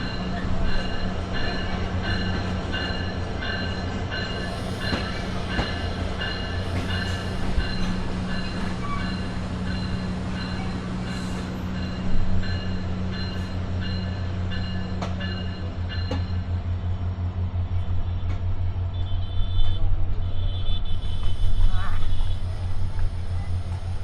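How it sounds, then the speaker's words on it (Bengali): A train running from Dinajpur into Nilphamari, Bangladesh, gives a steady rumble of wheels on the rails, with sustained high squealing tones and occasional clanks. Muffled voices are heard faintly inside the carriage. "নীলফামারিতে আমাদের ট্রেনটা এই মুহূর্তে প্রবেশ করতেছে"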